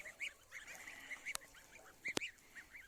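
Several geese honk in short nasal bursts at moderate distance, with a couple of sharp clicks or knocks mixed in; no talking.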